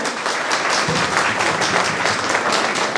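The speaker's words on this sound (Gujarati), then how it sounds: "એકવાર જોરદાર તાળીઓ પાડો" An audience claps loudly and continuously at a community ceremony, a dense, even wash of applause with no voices on top.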